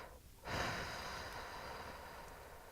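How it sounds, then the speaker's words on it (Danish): Breath is blown out in an exercise for the Empelvic pelvic trainer: after a brief quiet moment, one close, steady exhale of airy hiss runs to the end, with no talking. "Pust, pust, pust og et langt pust."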